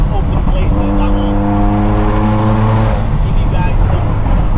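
A Ferrari F40 engine pulls hard at high revs while driving, a loud, steady mechanical drone that holds for a few seconds and then drops away as the car eases off. A voice speaks over it.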